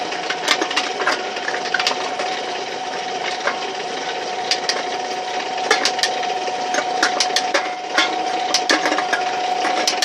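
A homemade RockCan crusher machine runs steadily, crushing cans with a constant motor hum and repeated sharp clanks and crunches of metal.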